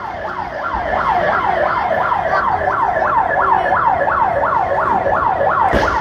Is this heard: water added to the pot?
no